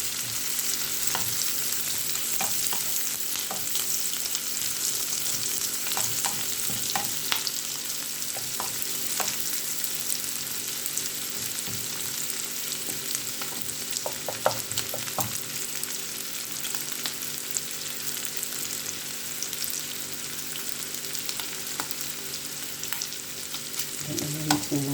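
Onion and garlic fry in the pan's own rendered oil, giving a steady, close sizzle with occasional stirring scrapes and crackles throughout.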